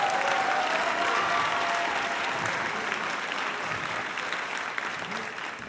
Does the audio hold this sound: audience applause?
yes